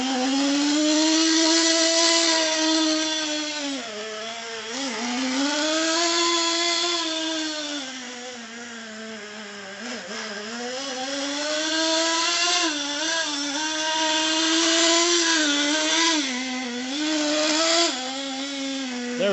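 A nitro-powered 1/16 scale Axial Yeti Junior RC car running during break-in, its small engine buzzing loud and close for the whole stretch, the pitch rising and falling as it revs and putts around inside a store.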